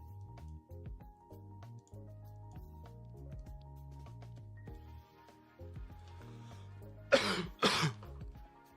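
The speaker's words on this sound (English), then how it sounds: "This cough is just killing me." Two harsh coughs burst out close together near the end, loud and raspy, over quiet low background tones.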